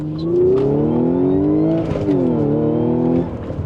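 A 2016 Audi S5 manual with a Stage 3 clutch revs up in first gear, briefly drops as the driver shifts, then climbs again in second, loud and close.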